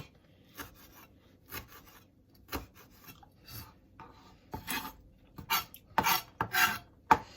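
A kitchen knife chopping through a lemon garlic chuck roast preparation, heard as a series of short, rasping cuts close up, irregular at first and then quicker and louder toward the end, with no talking.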